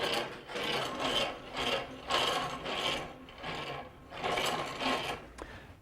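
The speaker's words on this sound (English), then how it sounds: "Now we're ready to crank the router back up to our starting point." A plunge router on a jig being cranked back up to its starting height, a steady rhythmic ratcheting, rasping mechanical turning in repeated strokes, close and alone with no talking.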